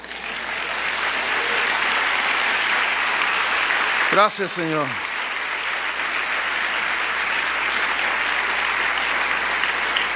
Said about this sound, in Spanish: ¿No le dan un aplauso a Dios?